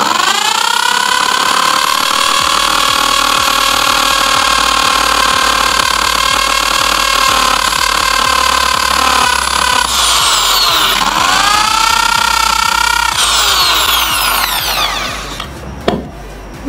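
An iBell TD13-100 electric drill boring into wood, a loud, steady high-pitched motor whine that holds for many seconds, dips in pitch under load as the bit bites, then winds down near the end.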